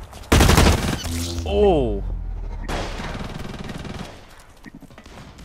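Burst of hip-fired gunfire in the online shooter Blacklight Retribution, a loud dense volley at the start followed by tonal game effects and more shooting, with a short exclamation from a player over it.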